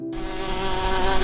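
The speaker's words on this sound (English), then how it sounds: "Wasp." A wasp buzzes continuously at close range, a steady, loud insect drone with no other sounds.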